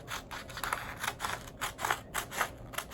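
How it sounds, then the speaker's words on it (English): Scissors snip through paper strips for a weaving craft, a close, regular series of crisp cuts about four per second. "and then you can cut the next one."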